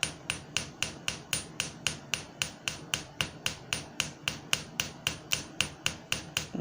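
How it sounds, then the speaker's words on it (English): A jeweller's hammer drops lightly onto a ring on a metal form, making steady, evenly spaced taps about three per second, close and clear with no talk. "no force with the hammer, kind of just let it drop on it"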